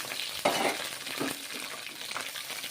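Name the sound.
roasting peanuts in a pan for ivy gourd chutney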